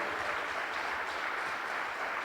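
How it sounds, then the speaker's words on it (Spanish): Steady applause from a church congregation during a Spanish-language service, a continuous even wash of clapping held at moderate distance with no voices over it. "Dale un fuerte aplauso a Dios."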